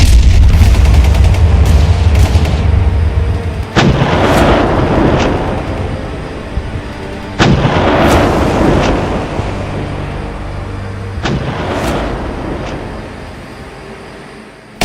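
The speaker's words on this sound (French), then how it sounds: "Leur artillerie va entrer en jeu pour stopper les criminels." Artillery fire and rocket explosions in combat near Djibo, in Burkina Faso: heavy booming blasts at about 4, 7.5 and 11 seconds over a continuous loud rumble of gunfire, with no voices.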